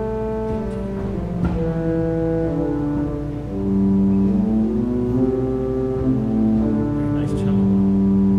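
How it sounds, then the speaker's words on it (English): Violoncello stop on a 1924 Kilgen pipe organ in a convent chapel, sounding sustained, reedy string-toned notes that move through a slow melodic line, moderately loud with a touch of room ambience. "And then there is a violoncello."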